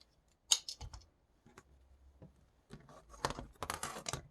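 Fabric scissors trim excess fabric from a pieced quilt block: a few crisp snips, then a longer stretch of close, rustling cutting and handling of the cloth, with no voice.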